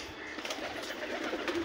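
Pigeons being released outdoors give soft, low cooing with a rustle of wings over a steady airy background, brief and moderately faint, no talk.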